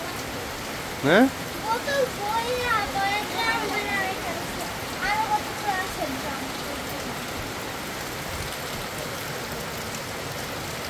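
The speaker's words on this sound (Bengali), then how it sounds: "টিনের ঘরে কিন্তু যে বৃষ্টি আসছে কি সবচেয়ে বেশি ভালো লাগে" Rain falls on the tin roof of a house in a steady, even hiss throughout, while voices talk briefly over it near the start and middle.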